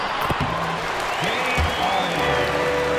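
Basketball arena crowd in the NBA 2K23 video game, Philadelphia fans cheering the 76ers against the Lakers: a dense, continuous roar of applause and crowd noise with game sounds mixed in, loud and sustained throughout.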